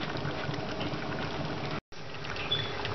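Chorba hamra bubbles in a covered saucepan, a dense steady burble of boiling liquid with tiny pops, broken by a split-second gap before it resumes.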